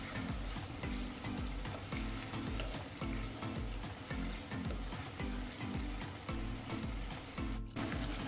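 Beef and turnip curry (shalgam gosht) fries in a pan with two green chilies, giving a loud, steady sizzle broken by repeated stirring scrapes from start to finish.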